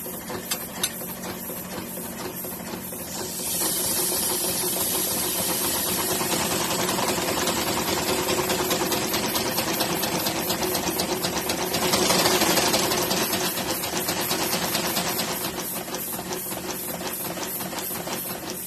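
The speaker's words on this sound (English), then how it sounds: "two nice blasts coming up the double chimney" Kingscale A4 model steam locomotive, drain cocks open, sending exhaust beats up its double chimney: a steady rapid chuffing with hissing steam, close and fairly loud, swelling slightly midway.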